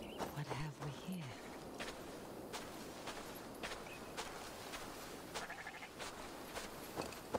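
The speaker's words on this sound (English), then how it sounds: "We have some sheep." A few short sheep bleats in the Assassin's Creed Valhalla video game, faint and brief near the start, followed by soft footsteps crunching steadily over ground at low level.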